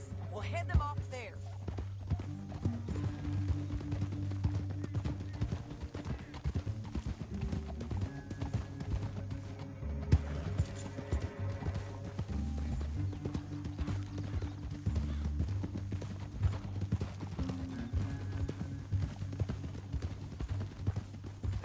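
Horse hooves galloping in the video game Red Dead Redemption 2, a rapid continuous clip-clop that runs throughout under a low music bed, with voices talking over it and an occasional whinny.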